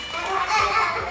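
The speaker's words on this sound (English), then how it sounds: "You can hear the kids in the background" Children playing in a home kitchen, their overlapping voices and shouts filling the brief moment at moderate level as background chatter.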